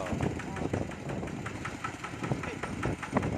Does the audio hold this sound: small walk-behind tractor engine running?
yes